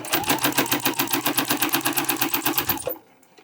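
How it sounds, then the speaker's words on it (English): Sewing machine stitching a tote bag strap, a fast, even mechanical rattle of regular pulses running close and loud for nearly three seconds, then stopping abruptly. "I'm just going to sew the other side of the strap with 1/8 of an inch seam allowance"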